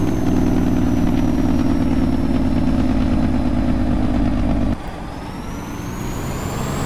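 Truck engine in the Universal Truck Simulator video game: a loud, steady, rumbling drone held at high revs, then dropping to a lower, quieter level near the end.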